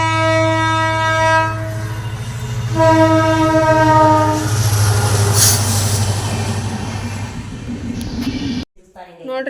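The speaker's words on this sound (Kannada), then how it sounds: "ಟ್ರೈನ್ ಬರುತ್ತೀಗ" A train passes a railway crossing while a bus waits, its loud horn sounding in two long blasts over the heavy rumble of wagons rolling close by.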